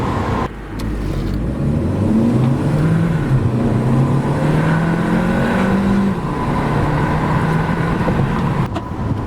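Audi A3 1.4 TFSI hatchback accelerating hard from a standstill toward 100 km/h, heard from inside the cabin as a loud, steady engine drone whose pitch climbs through several gear shifts, with no talking.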